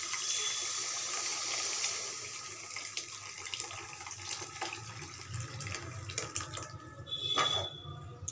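Leftover dumpling water is poured into a cooking pot where potatoes are boiling, a faint steady splashing pour followed by light clinks and trickles.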